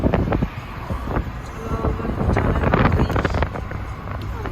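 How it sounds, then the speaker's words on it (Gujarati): A cold morning wind blows as dew falls, buffeting the microphone with uneven rumbling gusts. Scattered faint knocks and background sounds come through the wind noise. "ઠંડી ઠંડી હવા આવે સવારની."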